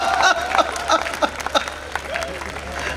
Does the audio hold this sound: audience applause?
yes